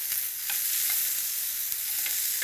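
Zucchini cooking on a hot char grill, a steady bright sizzle with a few soft taps and scrapes as pieces are turned, close and even.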